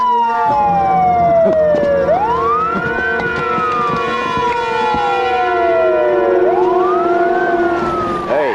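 A police siren wails loudly and continuously, sweeping down and back up in two long cycles, close and dominant with no talk over it.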